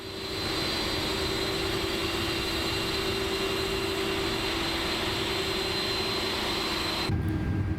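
Airbus A330 jet engines idle steadily after startup in the MSFS 2024 flight simulator, a constant loud whine with a sustained tonal hum, cutting off abruptly near the end.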